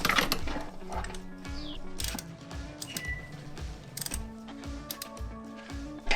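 A ratchet and socket loosen bolts on a Volvo XC90 engine during timing belt and water pump work, giving sharp, repeated pawl clicks in bursts at close range with metallic tool clinks between strokes.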